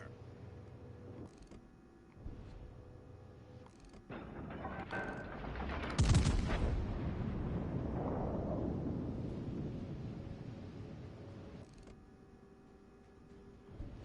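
Warship guns fire in World of Warships: Legends, the USS Missouri battleship, landing as one loud booming salvo with a long rumbling tail over steady engine and ambient game noise.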